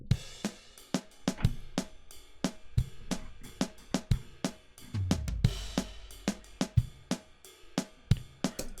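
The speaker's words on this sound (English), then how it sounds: "Now it's going to be the same drum groove, but sound different." A drum groove bounced in place in Logic and sped up plays alone, with punchy kick hits and sharp snare and hat strikes in a steady, fast funky pattern.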